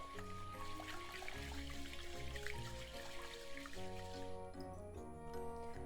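Rice is stirred gently by hand in rinsing water, giving soft wet swishing and trickling sounds, close and steady over faint background tones.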